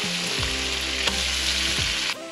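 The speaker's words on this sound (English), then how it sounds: "Throw it right in the oil." Spanish mackerel dredged in seasoned flour sizzles steadily in hot oil, a loud, continuous frying hiss with no talking.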